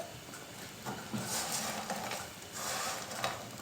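Steady crackling sizzle of homemade bread croutons seasoned with black pepper frying in a pan over medium heat, with a few scraping stirs and light clinks, close up and moderately quiet.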